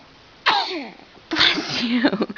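A baby sneezes twice, a short sharp burst followed by a second messier one, close and fairly loud, with a small vocal squeak between them.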